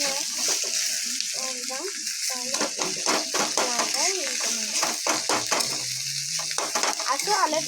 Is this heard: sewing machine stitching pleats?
no